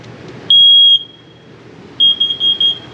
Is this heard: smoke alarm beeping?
yes